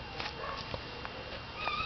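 Cats in a cattery meow faintly in the background, several short, high cries scattered over a steady room hiss, with no one speaking.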